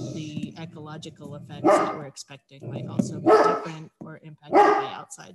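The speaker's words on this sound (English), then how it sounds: "Sorry about the dog." A dog barks loudly three times at close range, cutting in while a person speaks steadily in a recorded online presentation.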